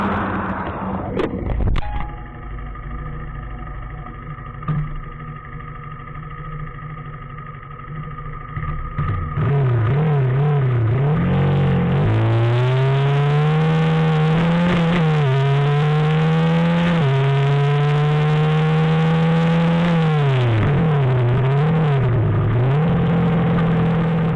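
A KTM Duke 250 motorcycle idles briefly, then its engine revs hard through repeated gear changes in an acceleration test, loud and close, with rising whines broken by short dips at each shift.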